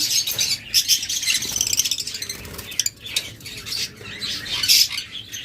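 A pair of pet Fischer's lovebirds, one dark and one albino, chirp and squawk in rapid, shrill bursts close by, with soft fluttering and a few light metallic clinks; no talking.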